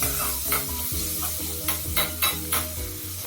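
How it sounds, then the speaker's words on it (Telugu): Curry leaves and chopped onions fry in a kadai with a constant close sizzle, broken by several quick scraping stirs of a spoon against the pan. "ఇప్పుడు అదే కడాయిలో కొంచెం కరివేపాకు వేసుకొని వేయించుకోవాలి. 2 పెద్ద ఆనియన్స్ తరుగు వేసి"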